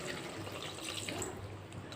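Water poured into a pot of cooking chicken makes a soft, steady trickling splash, quiet and close, lasting a couple of seconds without pause.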